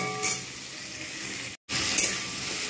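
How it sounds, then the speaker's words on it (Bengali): Yardlong beans fry in a pan over medium heat with a steady hissing sizzle and faint stirring scrapes, broken by a brief silent gap partway through. "বেশ কিছুক্ষণ ধরে আমি এতে ভাজবো যাতে কাঁচা স্মেলটা চলে যায়।"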